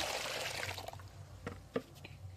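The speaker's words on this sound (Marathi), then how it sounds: "तर मग तुम्ही बघू शकता 2-3 पाण्याने ही धुवून घ्यायची अशी" Water sloshes and splashes briefly as soaked lentils are rinsed by hand, with a few small drips and knocks.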